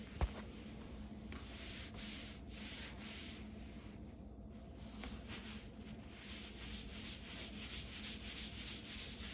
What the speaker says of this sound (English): I find that if I rub quickly like I am right now, that it helps the wax really soak in a little bit better and spread more evenly.